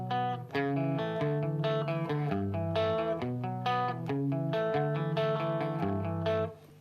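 A clean-ish electric guitar riff plays without any delay effect, steady rhythmic picked notes with crisp attacks, moderately loud and alone.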